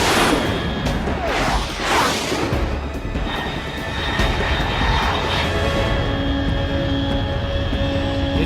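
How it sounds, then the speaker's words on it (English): A fast unidentified aircraft streaks overhead in the video game Metal Gear Solid 3, producing a roaring whoosh with sharp bursts early on, then settling into a steady droning engine hum with sustained tonal whine. "Unidentified aircraft detected."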